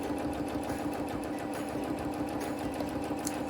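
A sewing machine runs slowly and steadily during free motion quilting of a maze design through a quilt, with a continuous close whirring and a rapid needle rhythm.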